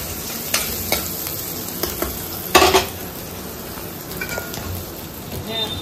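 Rice being stirred in a hot frying pan, with a steady sizzle under repeated scraping clinks of a spatula against the pan and one louder clatter midway; close and continuous.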